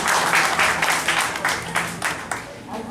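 An alumni gathering at a turn-over ceremony breaks into applause, a short round of fairly close clapping in uneven bursts that tapers slightly, with a voice briefly audible beneath.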